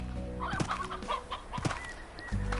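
A chicken clucks in short repeated bursts close by on a farm, with soft rustling and faint background noise between calls.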